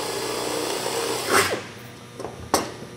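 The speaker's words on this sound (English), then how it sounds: "drilling our first hole." A power drill whirs briefly in short bursts, biting into sheet metal with a couple of sharp spikes, fairly quiet and with no talking.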